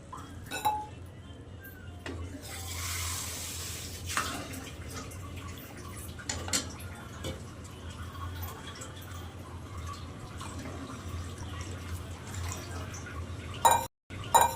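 Water splashes and trickles into a cooking pot while sambar is being made, with clinks of metal vessels and utensils in a quiet kitchen, the pouring lasting several seconds.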